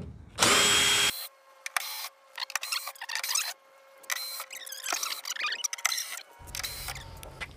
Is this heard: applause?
no